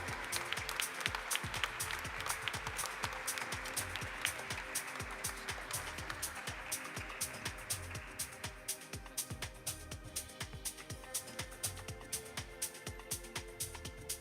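Applause rolls steadily through an audience at a company stock listing ceremony, a sustained crowd of many hands clapping at moderate distance with a few sharper individual claps.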